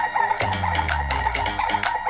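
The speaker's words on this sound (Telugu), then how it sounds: "అదిగోండి మా పెద్ద పుంజు" A large game rooster, recently fought and now ill with fever, gives a short throaty cluck-like call, close and clear with no talk over it.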